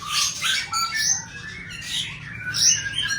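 Bali myna birds chirp and whistle in bright, repeated calls that overlap throughout, fairly close and steady, with no talking.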